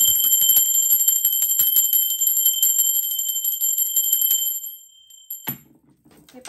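A bright metallic bell rings continuously with rapid strikes for several seconds, then stops, leaving a faint thud and quiet.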